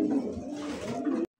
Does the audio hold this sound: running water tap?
no